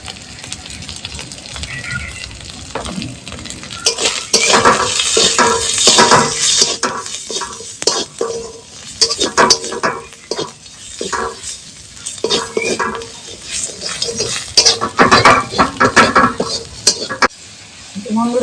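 Spices for a sole fish kaliya curry, turmeric and chilli powder, sizzle loudly in hot oil while a spoon scrapes and stirs them around the pan in steady, uneven strokes, close up.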